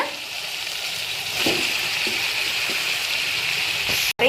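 Steady broadband sizzle of yellow pumpkin pieces frying in a hot pan, with a few soft clinks of stirring and a brief cut near the end.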